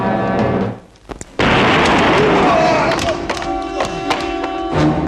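A sudden loud burst of tea exploding cuts in after a brief near-silence, followed by lingering rumble and scattered noise as voices continue around it.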